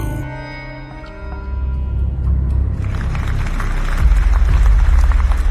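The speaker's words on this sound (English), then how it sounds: "I don't normally play claps for us, but I have to clap because I'm surprised we're actually back" Recorded applause effect dropped into the opening of a late-night radio show, a dense wash of many hands clapping that swells louder and fuller partway through and holds steady to the end.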